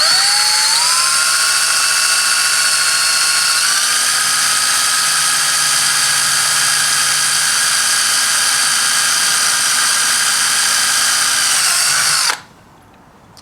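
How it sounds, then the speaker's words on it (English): A power drill whines steadily at high pitch while boring through thin steel on a 1973-87 Chevrolet C10 vent window, its tone rising slightly early on, then stopping abruptly near the end. "It's a very thin piece of steel, so light pressure on the drill."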